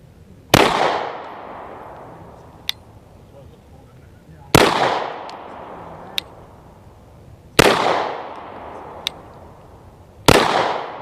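Four sharp, loud pistol shots from a Canik TP9SF are fired at an outdoor range from 7 yards, spaced a few seconds apart. Each shot has a long echoing decay, and a faint metallic clink follows most of them.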